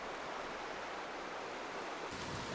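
The Metolius River rages past, a steady, loud broadband rush of wild water along a forested route, unbroken for the whole stretch with no voices.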